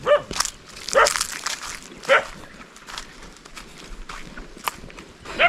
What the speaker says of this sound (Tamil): இது நாயெல்லாம் வேற குலைக்குது